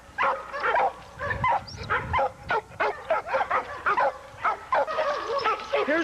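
Dogs bark and yip repeatedly in a kennel yard, a rapid series of close, sharp woofs with some whimpering between bursts.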